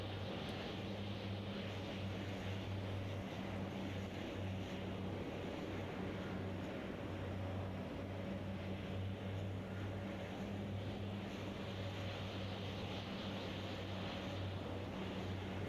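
DHC-7 four-engine turboprop taking off in Microsoft Flight Simulator 2020, a steady, even engine drone with a low propeller hum throughout, unchanging and moderately loud with no talking.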